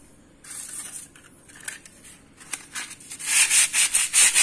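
Sandpaper rubbed against a painted wall indoors, a series of rasping scrapes that start softly and build to loud, rapid strokes toward the end.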